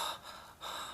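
A sharp, scared gasp taken in close to the microphone during a children's theatre and drama puppet lesson, followed by a shaky breath, heard alone without talking.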